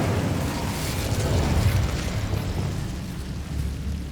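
Confringo explosion spell blasting in Hogwarts Legacy, a heavy sustained boom with rumbling low-end roar that stays loud and close throughout, slowly easing off.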